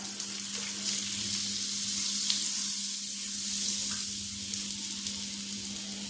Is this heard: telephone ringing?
no